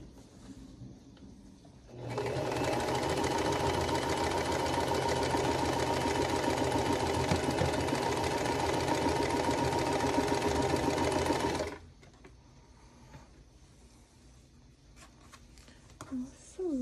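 A sewing machine stitches quilt block seams, a close, loud steady motor whir with rapid needle clatter that starts abruptly and runs about ten seconds before stopping, with quiet room sound on either side.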